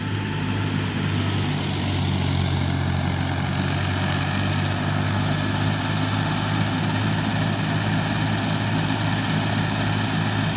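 A tractor-driven wheat thresher runs with a loud, continuous droning engine hum and dense mechanical rumble, steady throughout with no talk.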